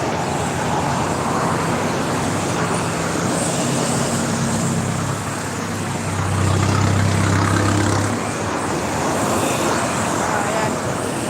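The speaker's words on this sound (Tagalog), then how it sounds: "Dito na po tayo sa highway" Highway traffic makes a constant low rumble of engines and road noise, with a heavier vehicle swelling louder as it passes midway before the roar settles back to a steady wash.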